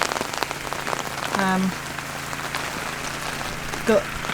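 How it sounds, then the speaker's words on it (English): Rain falling on an umbrella at a homestead garden, a steady close patter with dense drumming throughout, plus a couple of brief tonal sounds in the background. "you probably hear the rain on the umbrella at the moment"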